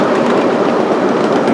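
A Southern Pacific steam locomotive pulls a train on the Manatee Central Railroad, a dense, steady roar of running wheels and rail noise, loud and close, with no voices.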